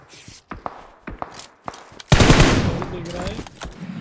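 Gunfire in the mobile battle royale game BGMI, played on an iQOO Z5 at 90 fps: a few separate close shots, then a dense, loud burst of rapid automatic fire with scattered echoes.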